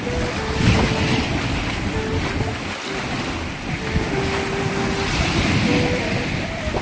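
Ocean waves wash and break continuously with heavy wind rushing across the microphone, a rough, loud surf sound close by as a golden retriever swims.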